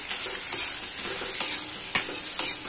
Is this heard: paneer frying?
yes